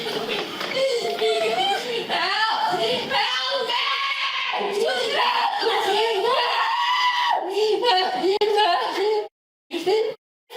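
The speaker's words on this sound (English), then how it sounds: "those fucking screams are terrifying" Woman screaming in police body-cam footage: loud, continuous, frantic shrieks and wails that run for about nine seconds, mixed with other agitated voices, before cutting out abruptly.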